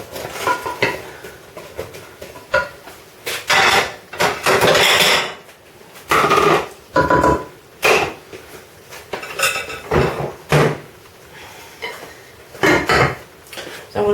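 Vegetables softening in olive oil in a pan over low heat for homemade tomato ketchup, stirred with repeated scraping and clanking of a utensil against the pan, loud, close and uneven, with a faint sizzle underneath.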